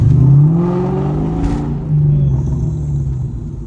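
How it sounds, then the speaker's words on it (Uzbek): A 1993 Ford Mustang GT V8 engine revs loudly up and back down, its deep exhaust rumble rising in pitch before settling into a throaty, steady drone close by. "Mana bu mashina Ford Mustang GT bo'ladi."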